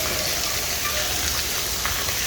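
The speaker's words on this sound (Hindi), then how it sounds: "मिरपुर में बारिशें इतनी ज़्यादा तेज़ बारिशें हो रही हैं" Heavy rain pours down steadily in a village in Mirpurkhas, a dense, even hiss of drops hitting surfaces with no voices.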